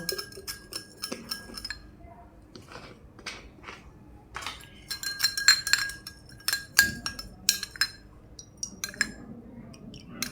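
A metal spoon mixes homemade vitamin C serum in a small glass container, giving irregular bright clinks and scraping taps in bursts, close and fairly quiet with no speech.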